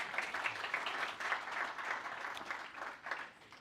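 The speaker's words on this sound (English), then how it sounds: "So just a quick round of applause again for the sponsors." Audience applause for the sponsors at a DDD Perth 2024 community tech conference, a steady, moderately faint patter of many hands clapping in a hall for a few seconds with no talk over it.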